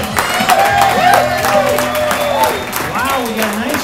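Live studio crowd at a sports talk show applauding and cheering, a broad wash of claps and whoops under a host's voice talking close over it.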